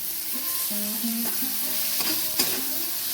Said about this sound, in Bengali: এবার আমি চিংড়ি মাছটা দিয়ে দিচ্ছি।